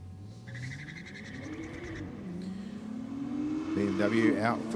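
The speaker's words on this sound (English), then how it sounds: "BMW out for just one more pass tonight" A BMW drag racing car makes a pass at Sydney Dragway during a competition night, its engine note climbing and growing louder as it runs, heard under a commentator talking.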